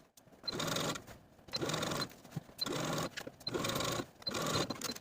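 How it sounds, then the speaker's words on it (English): A sewing machine edge stitches around a sleeve hem in five bursts of fast, whirring running, each lasting under a second with short pauses between, close and loud with no talking. "take the bottom of your sleeve to your sewing machine and edge stitch close to this inner fold all the way around"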